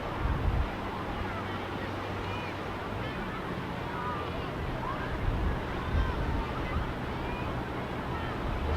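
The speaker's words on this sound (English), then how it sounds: "Huge waves coming in." Huge waves breaking over the coral reef off a Hawaii shoreline, a constant roaring wash of surf mixed with heavy wind buffeting, with slightly louder surges every few seconds.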